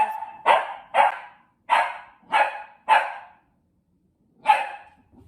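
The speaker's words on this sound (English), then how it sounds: "Sorry about the dog." Six sharp dog barks, five in quick succession and one more after a pause, fairly close, with no talking.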